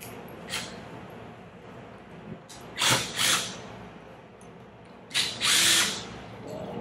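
A power tool fitted with a 3/16 bit backs out the six air valve bolts on a 2 in. bolted metal AODD pump. Several short, loud, close whirring bursts stand out over a low background, with the longest near the end.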